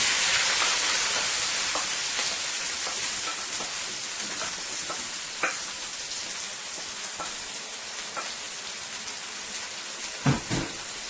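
Steady broadband sizzling of seasonings frying in hot oil, continuous hiss with occasional sharper pops and crackles, close and fairly loud.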